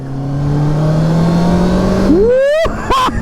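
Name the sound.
Honda CBR650R sport motorcycle engine under throttle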